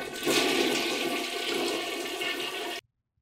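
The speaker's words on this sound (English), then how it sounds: "Flushing toilets." A toilet flushes in one loud, steady rush of water lasting under three seconds, then cuts off abruptly into silence.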